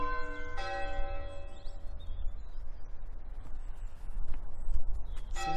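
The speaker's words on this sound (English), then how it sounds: "As you can hear in the background, there's some bell ringing practice going on." Church bells ring at practice at Dunham Church, just outside Altrincham. The peals are faint and distant, with one clear strike near the start over steady outdoor background noise, and nobody speaks.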